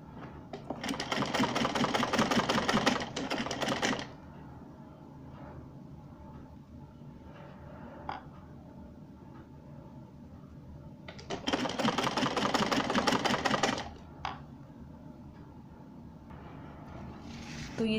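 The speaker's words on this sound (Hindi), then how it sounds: "और सिलाई लगाते जाएंगे।" Sewing machine stitching a folded design along a salwar hem, two loud close bursts of rapid needle rattle lasting a few seconds each, separated by a quiet stretch with faint handling sounds.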